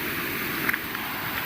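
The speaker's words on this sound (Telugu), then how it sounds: "Water fall." Steady broadband rush of a waterfall at Sonapur Water Falls, a continuous even roar with some wind buffeting, no clear voices.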